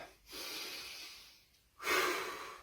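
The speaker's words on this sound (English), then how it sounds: "we may feel that we need to take a couple of deep breaths" Two slow, deep breaths during a lunchtime functional strength exercise session, a long inhale then a strong airy exhale, close and alone with no talk.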